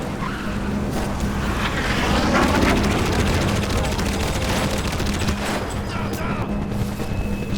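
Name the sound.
enemy gunfire in the video game Crysis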